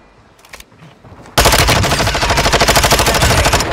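Sustained rapid automatic gunfire in Warzone 2.0 on the Vondel map bursts in loudly after a few faint clicks and rattles on as a continuous close volley, with no talk over it.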